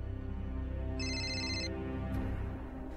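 A mobile phone ringtone plays in a home, a steady electronic melody with a brighter chiming burst in the middle, fairly clear with no talking over it.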